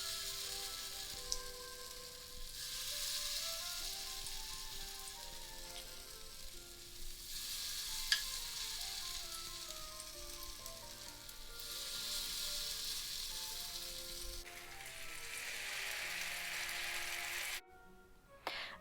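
Potato pancakes, Belarusian draniki spooned into hot oil in a frying pan, sizzle and crackle steadily and close up for the whole stretch, with no talking and a brief clatter near the end.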